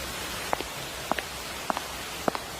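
Rain falls at night in dark woods, a steady soft hiss with faint drips or taps landing roughly every half second.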